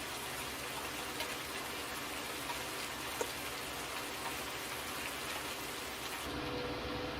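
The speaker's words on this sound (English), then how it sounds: "the rain is a little bit much" Steady rain pours in the Farm Simulator game, a dense continuous hiss of drops striking surfaces that holds the same level throughout the clip, with no speech.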